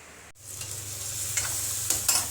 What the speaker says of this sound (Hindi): मैंने तड़का दिया जीरा और सरसों दाने का, और इसमें फिर मैंने आलू डाले, आलू फ्राई करे